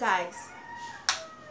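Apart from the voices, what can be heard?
chickens clucking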